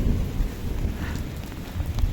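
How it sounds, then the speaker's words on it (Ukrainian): Steady rain pours during a hailstorm, with a low rumble of thunder rolling beneath the dense hiss of falling water throughout. "І там кругом знову починається дощ,"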